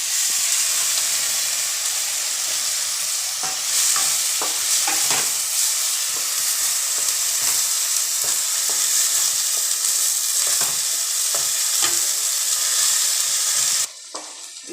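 Ginger garlic paste and tomato puree frying in a pan for Punjabi chole masala, with a steady close sizzle throughout and scraping stir strokes recurring every second or so, the hiss briefly easing near the end.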